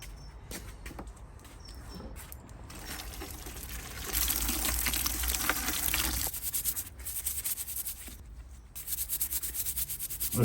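Freshly dug parsnips are scrubbed in water to loosen the dirt, giving close, continuous rubbing and sloshing that swells louder midway and carries on in uneven bursts.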